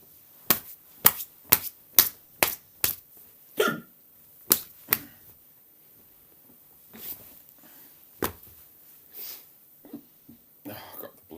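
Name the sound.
hiccups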